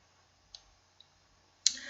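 A mouse clicks on a next button: two faint, sharp clicks half a second apart, then a louder click that sets off a short burst of computer sound, heard close and quiet in an otherwise silent room.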